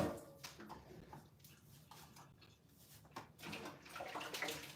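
Water from a kitchen tap splashes and gurgles into a pot in the sink, rinsing around its sides, a soft, uneven running sound with a few clinks, fairly quiet and with no talk.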